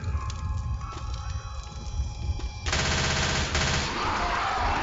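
Video game gunfire, a dense rapid burst of shots that erupts partway through and continues loudly over a busy game soundscape.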